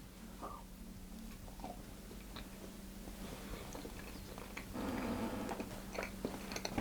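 Someone bites into and chews a soft tangzhong hot cross bun spread with butter, eaten untoasted; soft close chewing and mouth sounds over a steady low hum, with a slightly louder crunchy stretch near the end.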